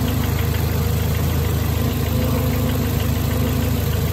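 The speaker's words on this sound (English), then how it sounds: "I don't know if you guys can hear me through the motor" A 2002–2006 Toyota Camry engine idles close by, a steady low-pitched hum and rhythmic mechanical ticking holding at constant level without talk.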